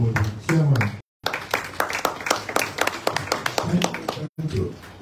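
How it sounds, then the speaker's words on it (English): Audience clapping for the chairman at an event in Freetown, a run of sharp, fairly close claps in an uneven rhythm, broken by two brief gaps, with voices mixed in. "So now we put hands together for the chairman."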